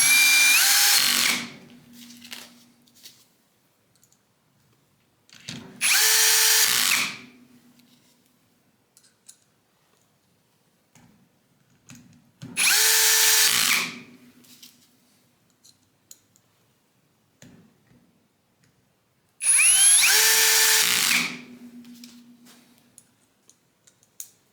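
Power drill driving screws into an angle grinder being converted to a DeWalt battery, four separate short whirring bursts spaced several seconds apart, close and clear, with small clicks and handling noises between them.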